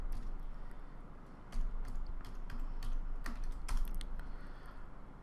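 HTML and CSS code being typed on a computer keyboard: a fast, uneven run of close key clicks with a few sharper, louder strikes and no voices.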